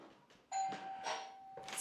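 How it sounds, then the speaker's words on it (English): A doorbell rings once inside a home during dog training, its bright electronic tone sustained for over a second after a faint shuffle, close and clear with no voices. "ring the bell."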